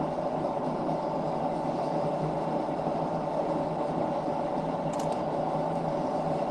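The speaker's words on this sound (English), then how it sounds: "My washing machine's knackered." A worn-out, faulty domestic washing machine runs noisily, giving a loud, continuous mechanical drone and rumble that holds steady throughout with no speech.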